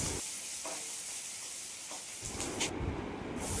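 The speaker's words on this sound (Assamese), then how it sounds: "মছলাখিনিৰ লগতে পিঁয়াজ দি পেলাই মই ভাজি আছোঁ।" Quiet frying of onions and spices in oil, a soft sizzle that swells louder midway, with a few faint stirring clinks close by.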